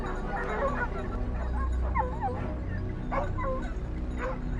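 A pack of hunting dogs in hilly Texas brush yips, whines and barks in excited overlapping bursts, close by and fairly loud against a constant background rush.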